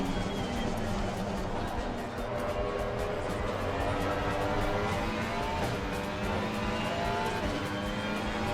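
A GT3 race car in a racing simulator holds a steady engine roar with shifting pitch and faint tyre noise, loud and continuous under a voice talking.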